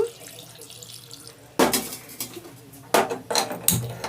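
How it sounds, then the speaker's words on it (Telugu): Water poured from a container into a cooking pot in a village kitchen arrives in short bursts, splashing and gurgling near the microphone with brief quiet gaps between pours. "కాసిని నీళ్ళు పోస్తున్నాను"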